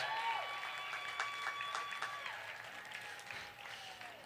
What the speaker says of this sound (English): And all of the folks here are clapping live.